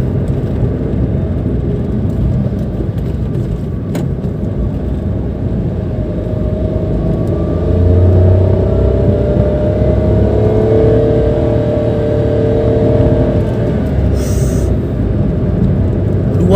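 A 2014 Nissan March 1.2 with a manual gearbox pulls hard in third gear on an out-of-town road, a loud, steady engine drone with a rising tone under heavy road and wind noise.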